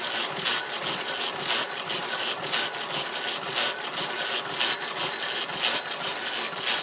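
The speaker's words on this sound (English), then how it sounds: "You can hear the hob starting to cut as we do." A Jacobs gear hobber's hob cuts a gear in a continuous mechanical whir with a faint rhythmic grinding pulse, steady and moderately loud, with no talking.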